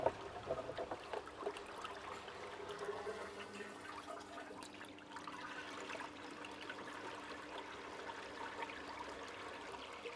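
Water flows through a laboratory hydraulic flume channel with a weir placed across it. The flow makes a soft, continuous rushing and trickling at low volume, even throughout, with no talking.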